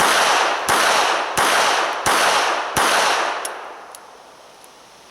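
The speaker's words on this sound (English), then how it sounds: "I'm just going to fire 5 or 6 rounds into the center of this target" A North American Arms Guardian .32 ACP pistol fired at a target on a shooting range, five sharp, loud reports spaced about two-thirds of a second apart, each followed by a brief ringing decay, then a couple of faint clinks and quiet.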